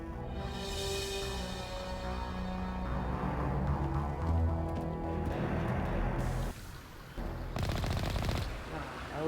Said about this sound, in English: I always do that. Fire my gun.